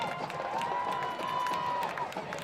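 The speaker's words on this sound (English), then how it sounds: "Crowd is electric." A football crowd at a Milton vs. DeForest high school game cheers steadily after a touchdown, a sustained roar with scattered claps and a whistle-like tone, while a commentator talks over it.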